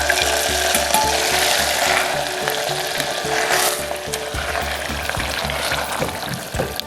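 Cashews and raisins fry in ghee for rose wheat pongal, giving a close, steady sizzle with busy scraping and clicking from stirring throughout, no talking.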